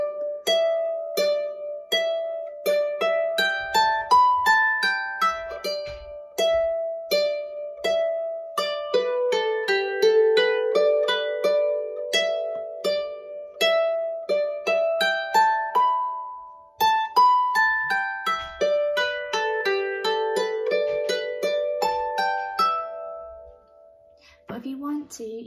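Manx harp plucking a lively phrase with an added triplet, bright ringing notes in a steady rhythm, played alone and close for the whole stretch.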